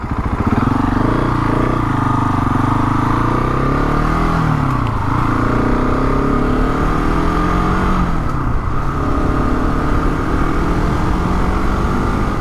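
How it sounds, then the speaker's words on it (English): A nimble motorcycle being ridden and manoeuvred through traffic alongside cars, its engine droning steadily and loudly throughout with a couple of dips and rises in pitch as it slows and pulls away. "Such a nimble bike is this to manoeuvre around."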